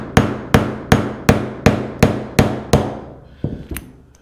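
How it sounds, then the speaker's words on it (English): A hammer taps out the kingpin on a skateboard truck in eight evenly spaced, sharp metallic strikes, then two softer, quicker taps close by. "then we're going to just take a hammer"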